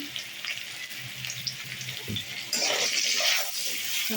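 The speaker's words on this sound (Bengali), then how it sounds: "আমার একটু ভাজা হয়ে গেছে পটল আর আলু" Pointed gourd and potato frying in oil with salt and turmeric, a steady close sizzle running throughout that grows brighter and louder partway through, with no talking.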